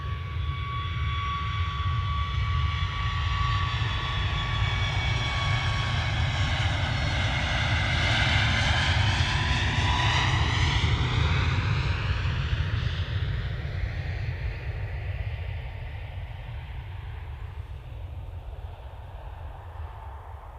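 A Ryanair Boeing 737 MAX roars on its take-off run from runway 23L at Manchester Airport. Loud, sustained jet noise with whining engine tones bends in pitch as the aircraft passes close, then slowly fades.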